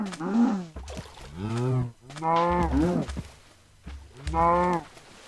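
Several drawn-out cow moos from the video game Minecraft, four distinct calls in a row with short gaps, loud and close with no talking.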